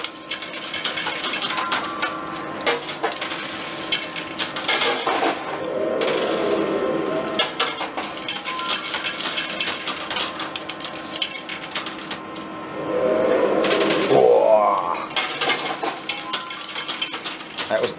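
Metal coins clatter and jingle in an Aussie coin pusher arcade machine, with two louder bursts of coins cascading and sliding over a busy background of mechanical rattling.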